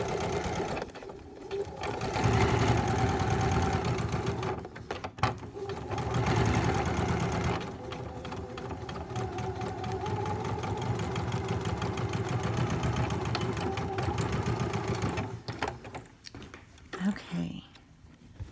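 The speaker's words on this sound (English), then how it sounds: "I'm going to come down here and adjust my settings on my machine. And now I'm going to sew all the way down using" Household sewing machine running a stay stitch down fabric while making a zipper, a steady mechanical whirr that holds for long stretches with brief pauses, close and fairly loud.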